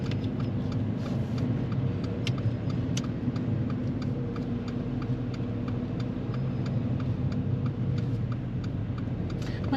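A manual car hums along steadily during a driving lesson, a constant mid-range engine drone and road rumble with faint ticking, no talk heard.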